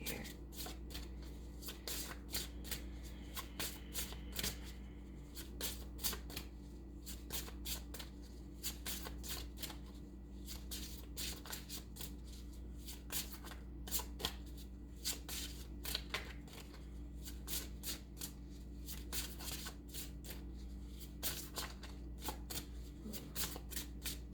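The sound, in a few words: shuffling tarot cards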